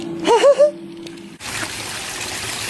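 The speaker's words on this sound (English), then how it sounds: "We have this super cute little waterfall in our backyard." A small backyard waterfall trickles in a steady, even wash of running water that fills the second half, preceded by a short burst of chirpy tones.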